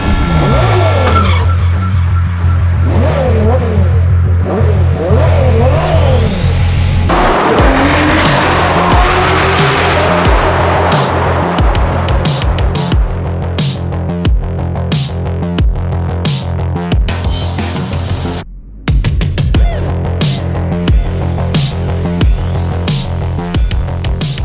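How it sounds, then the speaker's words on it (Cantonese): Loud Ferrari 812 GTS V12 engine on a drive, with steady engine roar, rising and falling revs and tyre noise throughout, plus one brief dip near the end. "啲聲聽引擎聲再直接啲，咁咪再刺激啲咯"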